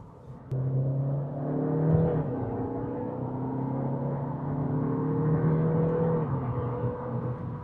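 VW Golf eHybrid accelerating hard in its electric-boost mode, a steady engine drone rising in pitch across the run, then easing and climbing again, heard alone from inside.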